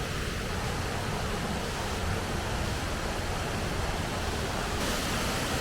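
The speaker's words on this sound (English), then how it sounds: "So our second waterfall for today is called Billy Falls" Billy Falls, a waterfall near Cairns in the Atherton Tablelands, rushes as a steady, dense broadband roar of falling water, constant and even throughout with no voices.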